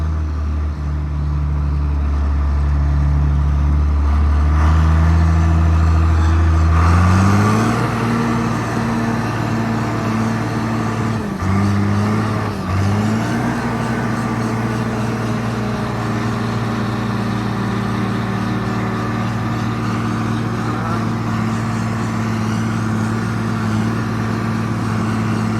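A truck pulling a trailer drives through snow on a farm, its engine a steady close drone that shifts pitch as it changes speed around a corner, running alone without talk.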